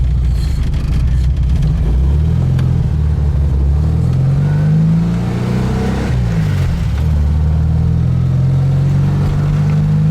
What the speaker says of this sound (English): Engine's still a little cold, but it's making even power, not like it did before